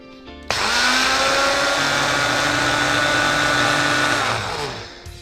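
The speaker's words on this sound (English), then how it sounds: "we're going to blend this down so it becomes like an oat flour" A blender grinds oats into oat flour. It starts abruptly, holds a loud, steady whirring roar for about four seconds, then spins down and stops.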